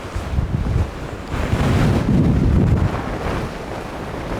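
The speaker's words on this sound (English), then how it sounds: "that wind. It's actually blowing the water back up the waterfall" Strong wind gusts buffeting near a waterfall, a rough surging roar rising and falling over a few seconds with heavy wind noise in the microphone and rushing water beneath.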